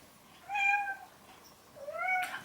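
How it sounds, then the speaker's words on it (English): A cat meows twice indoors, two clear drawn-out calls about a second apart, fairly close and with no talking over them. "I don't know if you can hear her meowing away down there."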